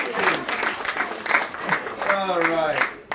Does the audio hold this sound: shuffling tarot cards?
no